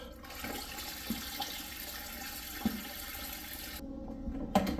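An aquarium siphon pulls water out of a planted tank during cleaning, producing a steady gurgling flow with a few brief clicks and pauses, close up and without talk.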